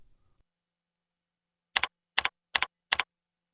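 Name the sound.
typing the username on a computer keyboard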